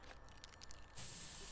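Pepper spray fires in South Park: The Stick of Truth, a sudden loud, sustained hissing spray that follows a short stretch of quieter game sounds.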